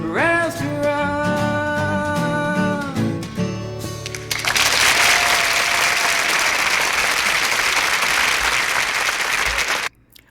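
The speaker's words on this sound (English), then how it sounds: "I'll go ahead and cut the crowd noise there." After a song ends, a live concert crowd bursts into loud, dense applause that runs for several seconds and then cuts off abruptly.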